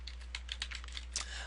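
Quick light keystrokes on a computer keyboard tap out an irregular burst of about a dozen clicks, close and fairly quiet over a steady low hum.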